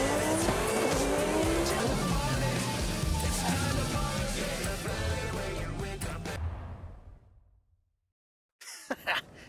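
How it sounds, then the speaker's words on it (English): A Volkswagen Golf GTR races in Forza Horizon 5, its engine roaring loudly with tire squeal and skidding before the sound fades to silence, then brief clicks and game noises return. "Which Golf do you want to drive for our little race? I'll take"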